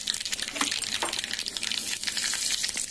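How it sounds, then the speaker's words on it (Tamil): Mustard seeds and urad dal sizzle and pop in hot coconut oil, a steady close crackle with sharp little spits and snaps scattered throughout, no voices over it. "தேங்காய் எண்ணெயை ஊற்றிக்கோங்க, எண்ணெய் நல்லா காயட்டும். கடுகு போட்டுக்கலாம், உளுத்தம்பருப்பும் நான் அதிலே சேர்த்து போட்டிருக்கேன்."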